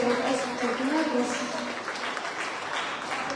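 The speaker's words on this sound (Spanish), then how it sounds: "Le doy un aplauso al Señor." Applause in a church congregation, a continuous wash of many hands clapping at moderate loudness, blended with voices and crowd noise throughout.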